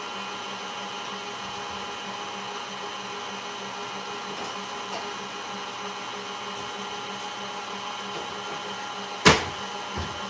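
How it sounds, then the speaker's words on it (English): Immersion blender fitted with a whisk attachment whipping cream for a French silk pie, a steady motor hum with whirring harmonics running throughout, ending in a sharp clatter near the end. "get the immersion blender out and do the whipped cream"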